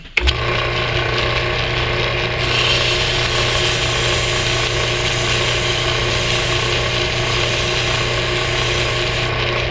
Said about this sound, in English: So I'm going to center drill that right away.